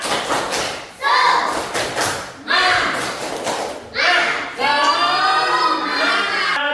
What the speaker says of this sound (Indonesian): Yo, tepuk semangat.